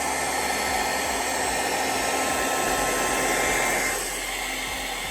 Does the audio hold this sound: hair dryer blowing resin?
yes